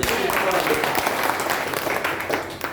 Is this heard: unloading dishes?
no